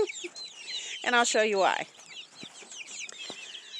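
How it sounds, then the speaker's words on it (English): Cornish cross meat chickens in a homestead pen cluck and squawk nearby in a burst of overlapping calls, then scattered softer clucks, with a person speaking over them. "These are my Cornish cross meat chickens."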